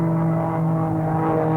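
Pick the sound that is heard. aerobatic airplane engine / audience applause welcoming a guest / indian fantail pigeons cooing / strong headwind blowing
aerobatic airplane engine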